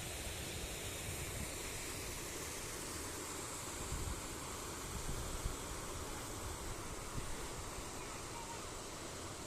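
A continuous, dense rush of the flooding Banas River fills the whole clip, loud and unbroken like a swollen river.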